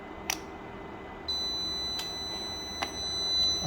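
A Prostar uninterruptible power supply switching into bypass mode gives off a faint, steady high-pitched beep tone that starts partway through, with a few soft clicks in a quiet room.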